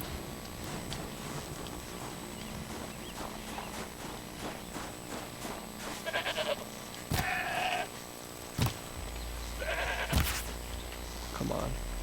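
Goats bleating in the video game Horizon Zero Dawn, several short bleats scattered over a game soundscape with footsteps and background ambience.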